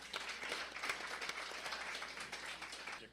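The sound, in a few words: audience applause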